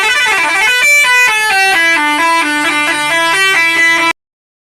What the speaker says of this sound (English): Truck noises. Listen to this.